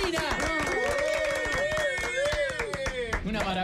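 A TV studio audience claps in welcome for a guest, a lively run of dense, sharp handclaps heard up close while music plays underneath.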